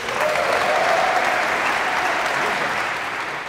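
A concert hall audience at the Wiener Konzerthaus breaks into loud, dense applause, a thick sustained roar of clapping with faint cheering mixed in, fading slightly toward the end.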